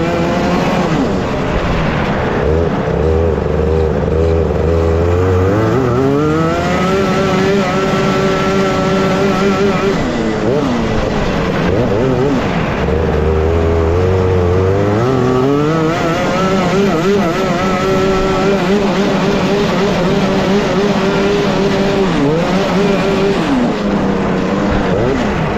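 Go-karts race on a winter karting track at a regional cup event, engines whining and rising in pitch through repeated acceleration sweeps, loud and continuous over roughly twenty-five seconds, with no talk.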